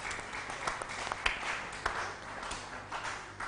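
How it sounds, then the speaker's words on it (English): An audience at a panel event gives sustained applause, a dense wash of clapping with a few sharper individual claps standing out, fairly close and steady throughout. "Please let's give ourselves a round of applause."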